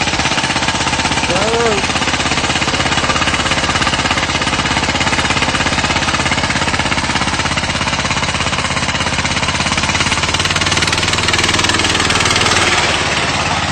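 A homemade go-kart's small engine runs loud and steady throughout, a rough, clattering drone close by with a faint vocal sound early on.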